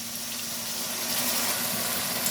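A paste of poppy seeds and chilli frying in a pan, with a small splash of water from rinsing the grinding stone, giving a steady close hiss and sizzle over a low hum, with no talking.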